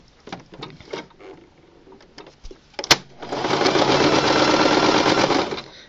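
A sewing machine runs a zigzag stitch along the edge of fraying, ravelly fabric for a homemade toy car, a steady close mechanical whir lasting a few seconds after some light handling clicks and knocks.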